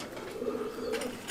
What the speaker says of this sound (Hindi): और बहुत ही प्यारा कबूतर है